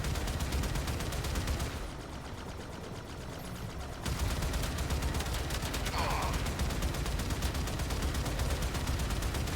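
Torpedoes firing in the Warframe video game, a dense, continuous rapid-fire barrage that drops back briefly and then surges again, loud and steady throughout with no talk.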